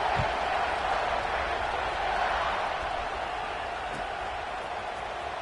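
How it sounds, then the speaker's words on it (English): A football stadium crowd buzzes after a score, a steady, distant roar of many voices held at an even level throughout. "this crowd is buzzing after that last score"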